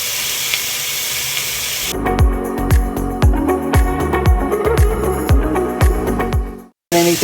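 Turkey and Italian sausage squeezed from casings sizzle loudly in a hot pan, a steady frying hiss broken by repeated sharp crackles and pops, then cut off abruptly near the end.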